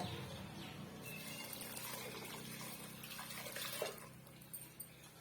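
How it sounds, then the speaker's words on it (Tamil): Filtered water poured into a cooking pot over mashed ingredients, a steady, fairly quiet rushing pour lasting several seconds, alone without talk. "இப்போ வந்து நம்ம வடிகட்டின தண்ணியை வந்து சேர்த்துக்கலாம்"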